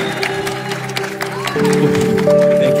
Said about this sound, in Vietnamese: Xem dâng cho Chúa một tràng pháo tay ngợi khen Chúa trong thời gian này.